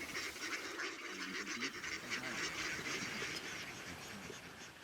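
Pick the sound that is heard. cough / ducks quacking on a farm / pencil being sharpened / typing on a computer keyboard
ducks quacking on a farm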